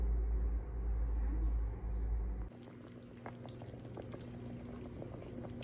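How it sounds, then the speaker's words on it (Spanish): Chicken breasts simmering in a pot with garlic, onion and water for tostadas de tinga: a steady, low bubbling rumble that drops to a softer, continuous hiss partway through, with no voices. "Primero vamos a cocerla con ajo y cebolla y agua"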